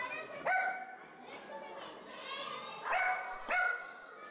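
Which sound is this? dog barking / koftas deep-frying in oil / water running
dog barking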